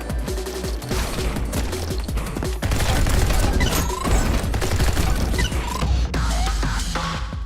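Rapid gunfire in the video game Neon White, a dense stream of sharp shots and crackling impacts during a fast first-person mission run, loud and continuous with brief pauses and game effects mixed in.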